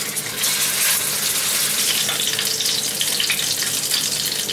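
Pork belly sizzling in a hot frying pan, with a steady bright hiss of spitting fat running close and loud throughout, no voices.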